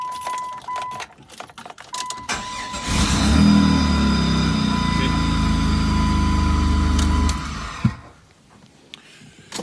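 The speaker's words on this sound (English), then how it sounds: "So the car still starts and runs fine." A car engine cranks and catches, then idles steadily for several seconds before shutting off, with keys jangling and light background noise before and after the running engine.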